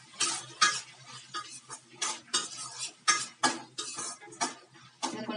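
Sliced aloe vera sautéed with tomato in a pan, a spatula scraping and clacking against the metal in repeated strokes about twice a second over a soft sizzle, heard up close without speech.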